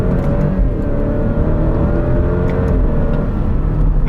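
2023 Alfa Romeo Stelvio Veloce AWD accelerating from 30 to 60 mph in manual mode with paddle shifts, a steady engine drone rising in pitch heard from inside the cabin, loud and continuous with no speech.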